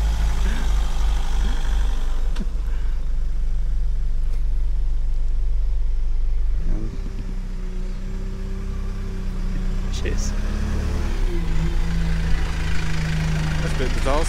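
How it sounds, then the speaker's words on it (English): A bus engine rumbles low and steady on a narrow country lane near Avebury, idling then shifting pitch as it moves past nearby, with people talking over it. "I had no idea the bus came down this way"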